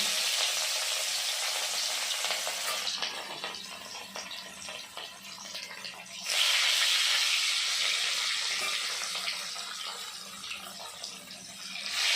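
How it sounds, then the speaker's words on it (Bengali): Pieces of rohu fish frying in oil in a pan give a loud, steady, close sizzle that swells and eases in waves throughout, with no one speaking. "তো বন্ধুরা, এবার মাছগুলো ভেজে নেওয়া হচ্ছে।"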